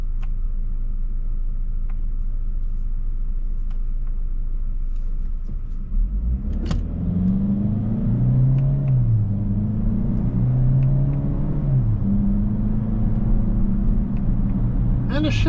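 A 2025 Chevrolet Equinox LT AWD engine heard from inside the cabin, moving from a low idle rumble into revving that climbs and dips several times as the paddles shift gears, with a voice speaking over it.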